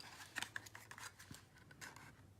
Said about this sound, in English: we're going to cut these tabs off